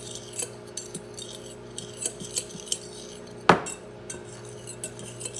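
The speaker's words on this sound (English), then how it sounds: "And then we'll just start stirring this and let this sugar and vanilla wafers get acquainted with one another here" A spoon stirs melted butter, sugar and crushed vanilla wafers for a cheesecake crust, making scattered light scrapes and clinks against the bowl, with one sharper knock partway through and a faint background hum.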